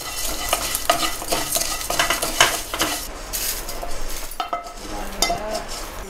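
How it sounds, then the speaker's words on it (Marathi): Rice roasting in a quarter spoon of ghee for thick rabdi kheer, stirred with a spoon that scrapes and clinks steadily against the pan over a soft sizzle, close and busy with no speech. "आता त्या तुपावर खमंग भाजून घेऊया"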